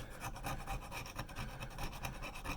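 Old graphite-like gasket being scraped off a heating element base, close repeated scratchy strokes in a quick, steady rhythm.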